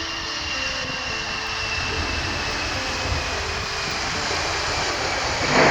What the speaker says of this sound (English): there's a jet taking off